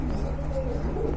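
A pair of large white Indian Bombay pigeons coos in low murmuring calls, close by, over a steady low hum of background noise.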